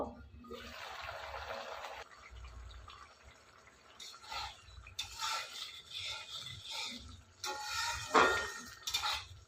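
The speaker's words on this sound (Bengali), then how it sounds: "ঢাকনা আমি উঠিয়ে নিব" Metal pot lid lifted off a pot of bananas boiling in water, with clattering clinks and bubbling, watery sloshing in several bursts near the microphone, a low rumble beneath.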